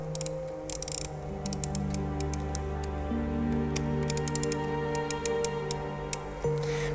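Clicking ratchet and gear ticks from the wind-up mechanism of the restored Svengali automaton, being tightened by hand. Irregular bursts of sharp clicks sound close over a steady low mechanical hum, with no talk.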